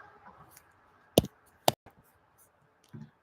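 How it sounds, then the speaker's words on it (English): A few sharp clicks sound in quiet, two distinct ones close together, followed by a fainter tap. "Let me click on this."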